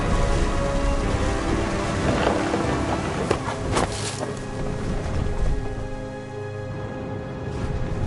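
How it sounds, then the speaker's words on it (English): A thunderstorm beside the sea, with steady heavy rain throughout and rolling thunder swelling through the middle before easing; no talk. "The thunder sounded much too close and full of angry power."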